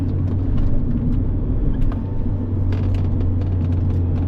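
A Mazda MX-5 ND2 Miata drives on a race track, its engine a loud, steady in-car rumble throughout with small shifts in tone and no talk.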